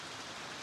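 Steady rain falls, a dense even hiss with no gaps across a short moment, moderately loud and with no voices over it.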